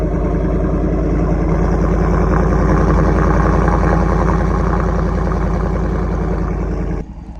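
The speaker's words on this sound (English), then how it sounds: "So this is a Corsa Extreme catback, and we're gonna see what it sounds like on a little, this is a warm start." Ford F150 pickup fitted with a Corsa Extreme catback exhaust idles after a warm start, a steady, loud, deep burbling rumble held close for about seven seconds before dropping off abruptly near the end.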